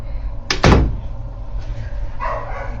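A house door swinging shut with a sharp close thud, followed by quieter rustling and a faint distant dog bark.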